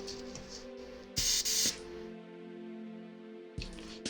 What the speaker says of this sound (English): Checking my airbrush right now.